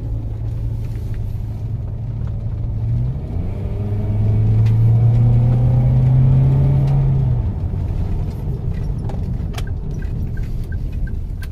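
Car engine accelerating at full throttle on an uphill road, heard as a steady low rumble that swells into a louder revving drone midway and then settles back, close and continuous with no talk.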